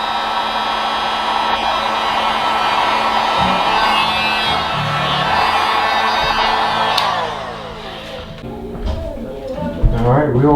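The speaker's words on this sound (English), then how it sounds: "Break out your heat gun." A heat gun blows steadily and loudly for about seven seconds while heating shrink tubing over spliced turn-signal wiring, then cuts off, leaving quieter rustling and handling noises.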